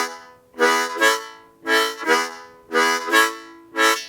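Blues harmonica alternating pairs of drawn and blown chords in a lilting swing rhythm, with short, breathy pulses repeating in a steady pattern and no talk.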